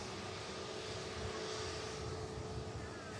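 Steady jet engine roar from a Ryanair airliner bound for Mallorca taxiing at Manchester Airport, a continuous broadband rumble with a faint high whine, moderately distant and unchanging throughout.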